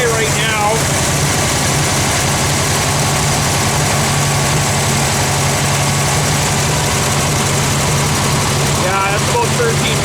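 Kubelwagen engine idling slightly fast at around 1300 rpm, a steady low rumble with constant vibration running throughout, close and loud, with faint voices briefly at the start and end.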